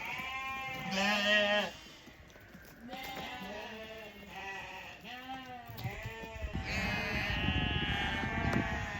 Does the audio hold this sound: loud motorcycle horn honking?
no